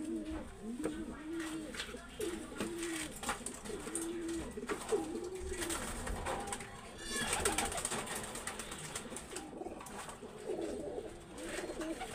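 Pigeons coo in repeated low, rolling calls, fairly close, with other birds and outdoor noise around them.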